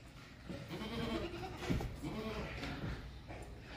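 Goats and their young kids bleating together in a farm pen, with repeated overlapping calls across the clip and voices mixed in under the animal noise.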